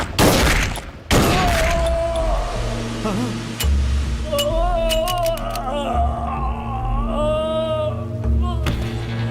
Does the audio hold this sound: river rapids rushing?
no